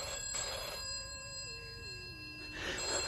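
A telephone rings in a British crime drama, a faint trilling bell burst near the start and another at the end, separated by a quiet gap with a thin tone sliding downward.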